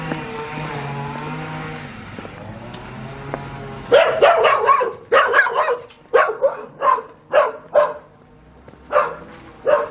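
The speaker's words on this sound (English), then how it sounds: "A noisy dog." A dog barks repeatedly at close range beside a road on a countryside walk, a run of sharp, evenly spaced barks that follows a stretch of low traffic rumble.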